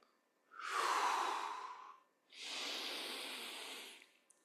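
Two slow, audible breaths during seated chair yoga crocodile breathing, a long airy inhale followed by a pause and a longer hissing exhale, close and alone.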